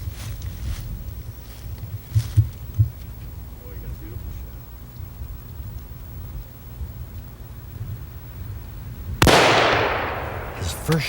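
A rifle shot fired at a bull elk during a 1988 Michigan elk hunt: one loud, sharp crack near the end that rolls off in a long fading rumble, after a stretch of wind noise and low, muffled voices.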